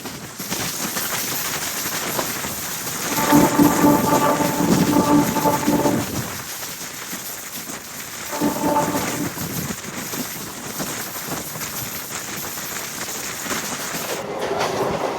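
A MEMU express train pulls away from Tettu railway station, a steady rumbling roll heard from on board with rising horn-like tones and a rhythmic clatter building as it picks up speed.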